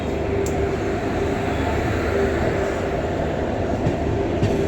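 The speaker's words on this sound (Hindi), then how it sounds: "अरे ये तो गुड्स ट्रेन है भाई" A goods train hauled by two locomotives rumbles past in a steady, loud, broadband roar with no pauses, heard from a passenger train on the Prayagraj–Delhi route.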